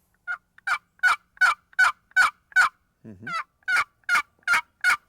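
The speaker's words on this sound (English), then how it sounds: "A box call is for yelping." A turkey box call yelping in a steady rhythmic series of sharp notes, interrupted once by a lower scraping squeak, close and clear with no talk.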